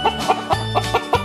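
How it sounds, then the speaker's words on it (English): Domestic chicken clucking in a quick series of about six short, fairly close calls set against a steady background hum. "And now we have a chicken."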